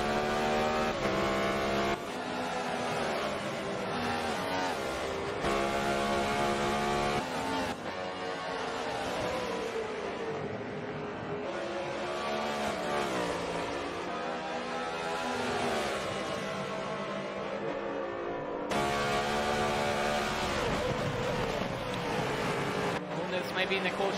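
Race cars in an MEA M3 Series racing video game, with engine notes whining and swelling as they accelerate and ease off. The cars stay close and loud under ongoing race commentary.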